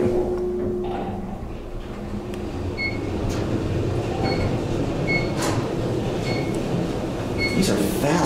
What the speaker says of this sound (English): These are fast elevators. Button goes up.